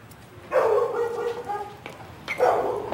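Freshly bathed pet dogs bark twice indoors, each bark short and moderately loud, with a quiet pause between them.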